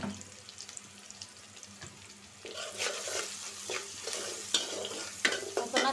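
Softened onions frying over a lowered flame in a pan, with scraping stirs and a rising sizzle that grows louder after a quiet start, no voices.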